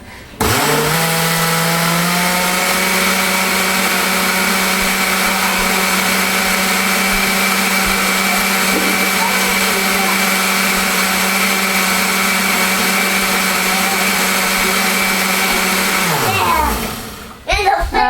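A blender motor churns a thick batch of homemade laundry detergent, a loud steady whine that holds throughout, then cuts off near the end.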